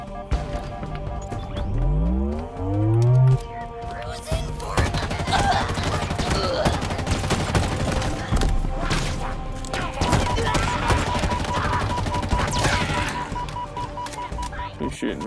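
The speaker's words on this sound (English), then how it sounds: "You're shooting me." Enemy gunfire in the Halo Infinite campaign rattles as a dense, uneven stream of sharp cracks, mixed with other game effects and a rising tone at the start.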